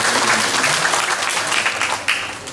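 Steady, dense applause from an audience at a Balinese drama gong performance, filling the whole stretch at a fairly loud level with no break.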